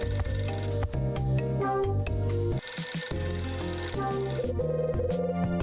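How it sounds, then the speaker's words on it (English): Telephone ringing in the video game Hotel Dusk, a repeating electronic ring over constant game music, steady and fairly loud, with a brief drop around the middle. "Phone's ringing."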